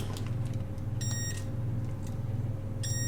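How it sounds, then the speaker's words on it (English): A continuity tester beeps while checking wiring on a Harley 45 motorcycle, two short faint tones over a steady low hum. "we're putting the fuel continuity tester on it"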